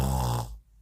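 A voice imitates snoring with a rough, rasping throat sound used to pronounce the Arabic letter kha. It is one short, close burst that breaks off into silence.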